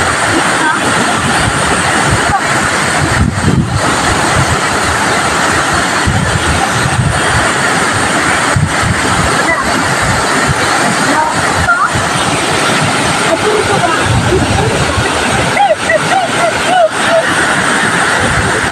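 Strong wind roars in a loud, unbroken broadband rush for the whole stretch, buffeting close to the microphone, with occasional voices faintly underneath.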